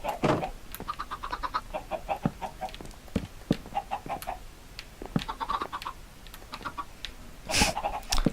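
Chickens in Minecraft cluck in repeated short bursts on a farm, several birds overlapping at close range with a steady pecking rhythm and no talk.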